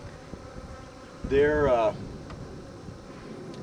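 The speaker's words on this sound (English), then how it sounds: "There's probably a beehive in the area here" Bees buzzing close by near a hidden beehive outdoors, a loud swelling drone with wavering pitch lasting under a second, set against quiet ambient background, with someone talking briefly.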